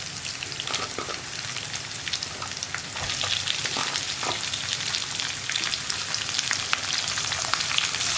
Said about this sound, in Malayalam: ഇനി സവോള ഒന്ന് ട്രാൻസ്പെറൻ്റായി വരുന്നത് വരെ ഇളക്കി കൊടുക്കുക